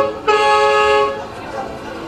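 A car horn gives one sustained, steady honk of about a second, close and fairly loud, with background noise and faint voices around it.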